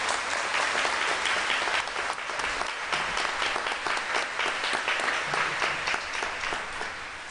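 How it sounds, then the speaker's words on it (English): A graduation audience of families and faculty gives sustained, loud applause to welcome the speaker, a thick wash of clapping that stays full throughout and eases only slightly at the end. "please give a round of applause and help me welcome Dr."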